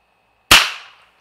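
A single sharp, close crack from a suppressed .22 Long Rifle standard-velocity round, a short snap that decays quickly with no talk over it.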